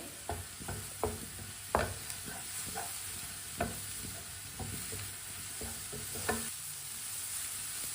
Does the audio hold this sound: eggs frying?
yes